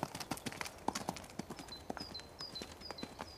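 A horse comes toward the listener, its hooves clip-clopping in a steady close rhythm of sharp knocks, with faint whistling bird-like tones in the background and no talking.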